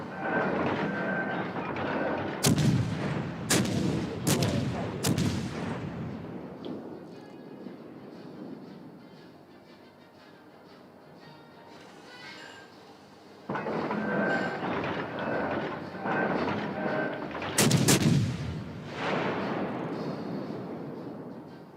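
Warship guns fire a staggered salvo in a naval video game: a quick run of four sharp booms, then a low lingering rumble, and later another heavy blast.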